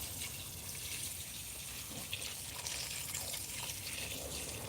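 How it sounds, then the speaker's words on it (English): Water poured into plant pots in a home garden, a faint steady trickle and splash with soft dripping from the catch basins, continuous and quiet throughout. "I'm pretty much gonna water these until I see water coming out the little catch hole"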